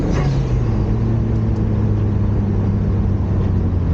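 Turbocharged Lotus Elise pulling in fourth gear, a steady close engine drone with a rising low tone and constant road roar throughout, no voices.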